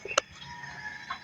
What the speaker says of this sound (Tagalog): Gising ng aking mga alagang manok.